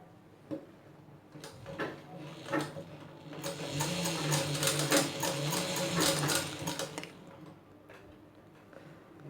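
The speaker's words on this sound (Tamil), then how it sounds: "இந்த 2ஐயும் சேர்த்து இப்படி வச்சு இந்த இடத்துல தையல் போடணும்" Sewing machine stitching two elastics together for a hair band: a close, rapid mechanical clatter of needle strokes building in the middle and trailing off, with quiet handling ticks before and after.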